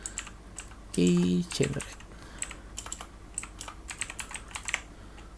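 Clicky computer keyboard keystrokes, a steady run of sharp taps from a Laravel terminal command being typed, sound close and crisp while a voice briefly speaks over the start.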